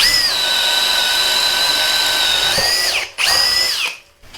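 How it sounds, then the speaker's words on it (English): A Metabo HPT 36V cordless hammer drill spins a 3/4-inch auger bit into a hole with a loud, steady, high-pitched motor whine. It dips briefly and then revs again before winding down near the end. "we got a 3/4 inch auger bit. The spider. We're gonna do a hole right here"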